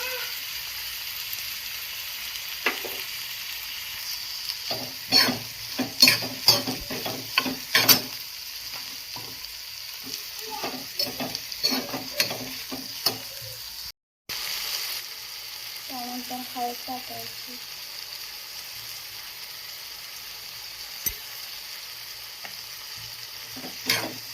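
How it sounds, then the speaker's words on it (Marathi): Onion fries in a pan with a soft, steady sizzle, broken by clusters of stirring clatter and scraping and a short silent gap partway through. "लालसर असं भाजून घेते कांदा"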